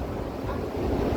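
Rough sea waves washing around a boat at sea in bad weather, a continuous loud surging wash with wind noise buffeting the microphone.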